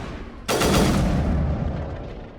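A single sharp, loud sniper rifle shot in the sci-fi shooter Mass Effect Remastered, cracking suddenly near the start and ringing off over a couple of seconds.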